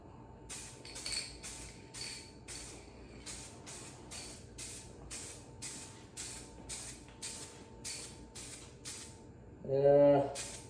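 A spray paint can sputters unevenly in a rapid string of short, close hissing bursts, with a brief voice near the end.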